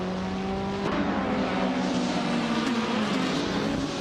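Race car engines droning together at the start of a video game race at Botniaring, a 2018 BMW 125 among them, a steady loud whine with shifting pitch as the cars accelerate, no voices.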